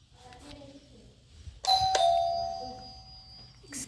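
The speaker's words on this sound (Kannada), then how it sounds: "ಬೆಲ್ ಹೊಡಿತಿದ್ದೆ." A doorbell rings once, a clear, loud electronic chime that rings out and fades slowly, with faint voices and background noise around it.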